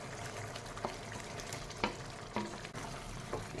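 Steady bubbling sizzle from a pot of chicken gravy, with a few soft scraping stirs cutting through at intervals.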